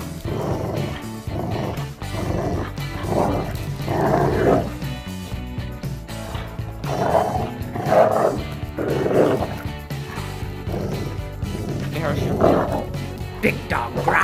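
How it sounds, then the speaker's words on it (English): A big dog growls and barks during rough play, with repeated loud woofs and low grumbles over steady noise. A person talks throughout. "Big dog growl."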